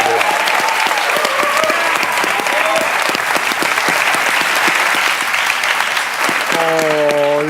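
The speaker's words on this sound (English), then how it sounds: "Let's give both of them a round of applause." Sustained applause from a crowd, dense and steady clapping throughout, with a voice briefly rising near the end.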